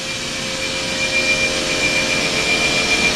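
A 2000 Okuma & Howa Millac 438V four-axis CNC vertical machining center runs with a steady, loud whirring hum and a high whine, continuous and close, with no talking.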